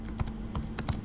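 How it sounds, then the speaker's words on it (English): A computer keyboard clicks under light typing, a few short keystroke bursts spread across a brief moment, close and fairly soft, with no one talking. "I can type my function here, f of x."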